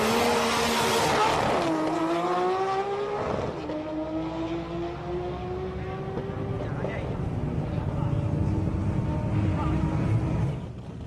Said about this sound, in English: The burnouts might seem pretty over the top